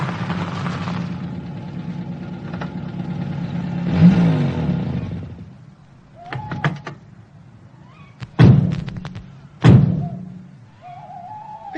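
A car in a radio drama idles and revs, then a few sharp door thunks follow, spaced apart against a quiet background.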